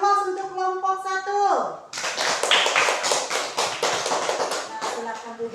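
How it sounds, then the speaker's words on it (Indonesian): Classroom applause for a student group, a burst of many hands clapping in a lively, uneven patter, preceded by a spoken call from a voice. "Kita beri aplaus untuk kelompok 1"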